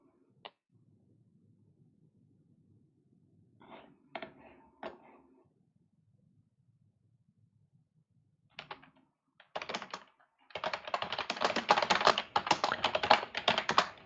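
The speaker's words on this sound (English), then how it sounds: "Apologize if my keyboard is loud. I am one of those mechanical keyboard people" A few scattered keystrokes, then a dense, rapid burst of clacky mechanical keyboard typing, close by with no talking.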